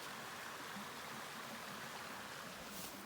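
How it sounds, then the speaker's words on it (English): A brook runs through New Hampshire woods, a steady broad rushing of flowing water, faint and unbroken for the whole stretch with no voices. "You got a nice brook"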